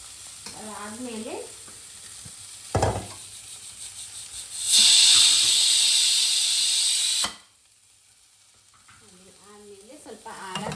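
North Karnataka style mutton sukka sizzles in a pan as it is stirred, with scraping strokes, a loud burst of hissing steam in the middle, then quieter frying, and a voice talking at the start and end.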